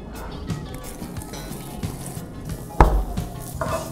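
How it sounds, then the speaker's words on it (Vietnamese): Ginger frying in a pan in a cooking-show kitchen makes a steady crackling sizzle, with an occasional sharp clatter of utensils against the pan. "Mình chiên gừng."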